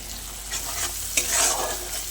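Spice paste for a Bengali fish curry sizzles in oil with a splash of water while a spatula stirs it in a pan, a close, steady hiss broken by a few scrapes, with no voices.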